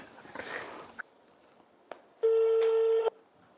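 A telephone sounds a single steady electronic ring tone lasting under a second, loud and close, after a burst of rustling and a few faint clicks, with no speech.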